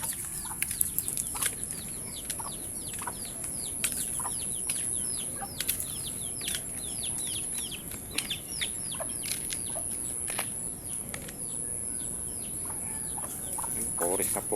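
Farmyard chickens with ducks and chicks nearby cluck and chirp steadily, with quick, repeated calls over a constant outdoor hiss and a few louder squawks scattered throughout.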